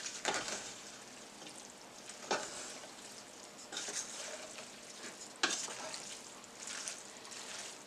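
Chicken pasta being stirred in a pan, faint sizzling under several scraping, sloshing strokes spaced a second or two apart, close but quiet with no voices.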